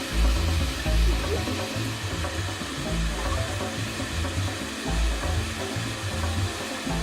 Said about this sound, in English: then use the shop vacuum to clean up all of the remaining debris